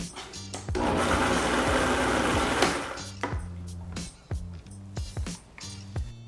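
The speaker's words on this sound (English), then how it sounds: "we're going to add 1 whole avocado and blend it till it turns into a puree" A blender whirs loudly for about two seconds, pureeing a whole avocado with a few tablespoons of liquid, then runs in short choppy pulses with thumps and bumps between bursts.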